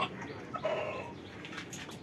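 A pair of Sirajee pigeons coo softly close by, faint low throaty murmurs over a quiet indoor background.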